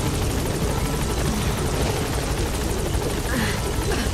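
A support helicopter in the video game Metal Gear Solid V arrives with a loud, close, continuous rotor thump and engine roar that holds steady throughout, with radio chatter faintly under it.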